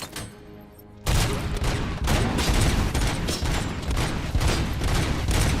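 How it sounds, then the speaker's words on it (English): Sniper fire in a multiplayer shooter: after a quiet second, a dense burst of loud, overlapping gunshots and booming reports rolls on steadily without a break, with no talk over it. "It just started shooting."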